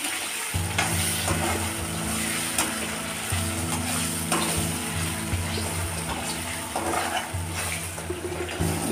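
Ingredients for a paneer curry fry steadily in a pan, browning with a continuous close sizzle and crackle, a low hum running underneath, no talking.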